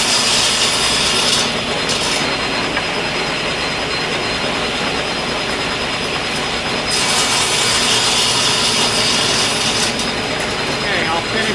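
A saw cuts through wood held on the outside of a wedge sled for segmented bowl turning, producing a loud, continuous whining roar that does not let up.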